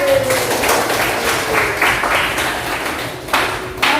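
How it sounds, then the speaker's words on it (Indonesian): Students in a physics classroom clap together for a presenter, a dense burst of applause that keeps going for several seconds at a steady, fairly loud level. "Boleh kasih tepuk tangan Pak."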